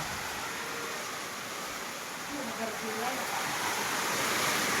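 Heavy rain pouring down at a house with a porch, a dense, steady hiss that fills the whole clip and swells slightly toward the end.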